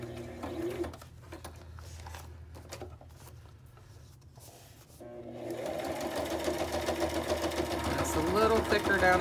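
A home sewing machine stitches layers of fabric together while making a pocket, running in a steady mechanical whir that grows louder and denser partway through, with a background hum throughout.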